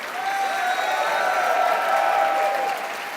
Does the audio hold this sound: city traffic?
no